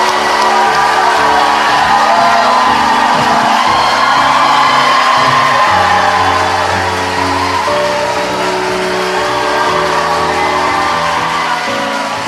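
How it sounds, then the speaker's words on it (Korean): A large crowd of Gwangju citizens at a live current-affairs talk show applauds and cheers, with whoops and shouts over sustained clapping that runs for several seconds. "광주 시민들의 크나큰 박수로 시작하겠습니다."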